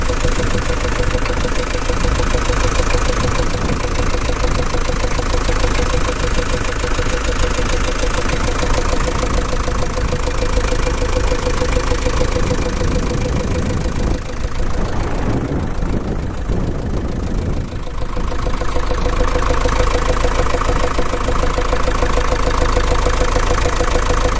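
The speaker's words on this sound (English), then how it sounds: "I'm going to rev the engine a little so you can see there's no smoke." A Land Rover 109 engine idles steadily on a very cold morning, a loud, close, even rumble that dips briefly before settling back to the same steady idle.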